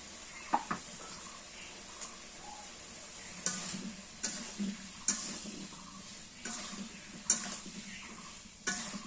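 Onion and garlic paste sautés in a pan for a fish and sweet pumpkin curry, a faint sizzle broken by repeated spoon scrapes and knocks against the pan at irregular intervals.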